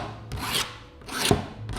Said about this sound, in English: So I'm just gonna start with my big file to get the basics of the outside.